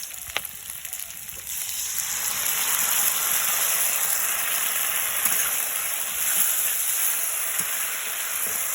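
Chicken sizzles steadily in a frying pan as sauce goes in, a continuous close hiss that swells after the first second and holds evenly, with faint occasional ticks.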